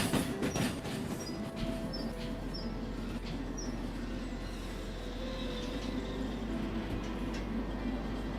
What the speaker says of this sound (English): And I'll slow this train down a bit.